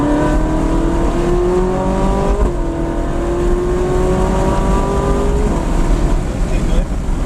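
A supercar on a race track accelerates hard through upshifts, its engine note climbing in steady, rising sweeps with brief dips at each gear change, loud and close, while a voice talks over it.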